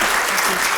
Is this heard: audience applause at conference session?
yes